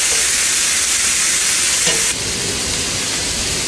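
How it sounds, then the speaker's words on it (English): Sausage fries in a pan with a loud, constant hissing sizzle, close and unbroken, with a brief soft clink partway through. "the sausage has been cooking for maybe 3 or 4 minutes"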